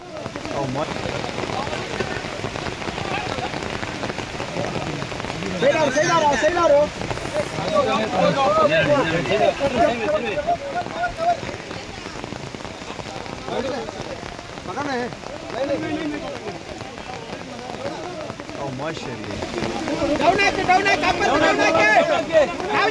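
Heavy rain pours continuously during a rescue operation in Mangaluru, a dense steady patter on surfaces throughout, with voices and background chatter rising and falling beneath it.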